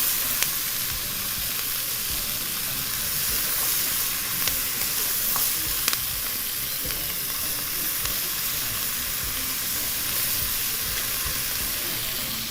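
Pork ragu bones browning with onion and carrot in a hot pan, a steady close sizzle and fry hiss with occasional stirring clicks, no voices.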